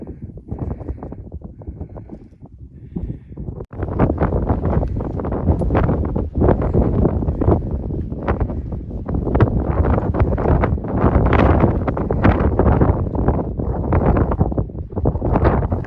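Strong wind roars across the summit of Mount Madison near the Madison Hut on the Appalachian Trail, buffeting the microphone in a loud, continuous rush that swells sharply after a few seconds and stays intense.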